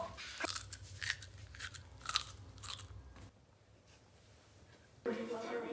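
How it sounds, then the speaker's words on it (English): A crunchy cookie is bitten and chewed up close, giving several sharp crisp crunches in the first few seconds, followed by quieter chewing, with voices talking nearby. "Crunch it."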